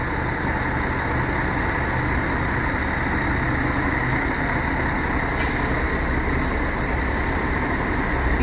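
An Irizar coach idles at the Sorocaba bus station, its engine a steady, loud rumble throughout, with a brief sharp hiss of air brakes partway through.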